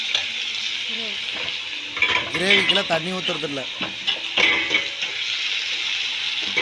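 Chicken pieces sizzle in a pan of frying onions for a chicken gravy. There is a steady hiss with scraping stirring and utensil clinks, while someone talks over the cooking.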